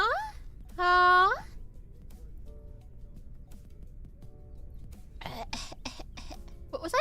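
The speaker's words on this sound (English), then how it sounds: "Yeah, you get to hear coughing instead." A few sharp coughs and throat-clearing bursts close up near the end, following a high-pitched vocal squeal and a stretch of quiet room noise.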